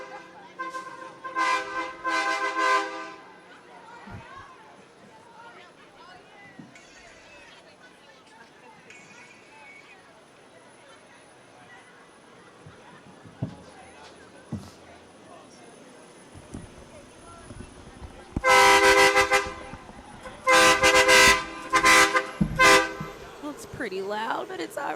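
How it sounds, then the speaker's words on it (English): An 18-wheeler truck rolls through an outdoor Martin Luther King Jr. parade in San Diego, blasting its horn in several loud, close bursts after a stretch of quieter crowd noise and talking. "This big old 18-wheeler coming down, honking their horns."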